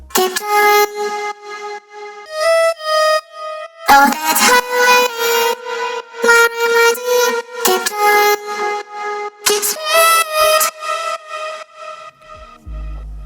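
A synth lead programmed in Ableton Live plays bright, buzzy sustained tones that step between pitches in short repeated phrases, loud and alone, ending in a low thump.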